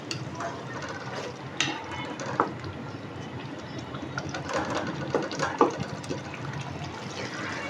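Spiced lentil (daal mash) masala sizzling and frying in oil in a pan, a steady crackling hiss with scattered sharp pops, heard close.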